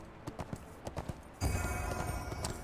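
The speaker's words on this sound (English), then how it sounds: "Back onto the horse." Horse hooves clip-clop at a steady walking rhythm while riding in the video game ArcheAge, quiet and close, followed by a louder burst of game noise.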